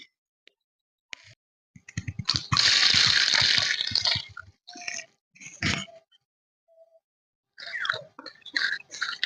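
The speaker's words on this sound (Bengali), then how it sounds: "চিংড়ি মাছগুলো ভালো করে ধুয়ে নিচ্ছি" Prawns are rinsed by hand in water, giving bursts of splashing and plopping close by, with a longer sloshing stretch and short gaps of quiet between.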